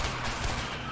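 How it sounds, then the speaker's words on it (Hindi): Gunfire in the video game A Way Out rattles as a rapid burst of shots. It is steady and fairly loud across a short moment, with no voices over it. "एक मिनट इसे 10-12 गोलियां पड़ी तब भी नहीं मारा."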